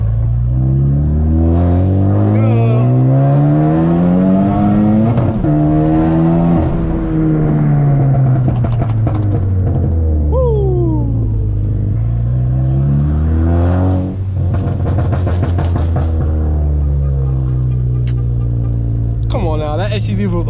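A car with a loud crackle-tuned exhaust revs hard and climbs through second gear, exhaust roaring loudly up close, with brief pauses and pops between pulls.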